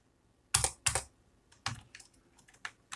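A computer keyboard is tapped while a quantity is entered into accounting software, with two sharp keystrokes and then a looser run of lighter clicks, close and clear in a quiet room.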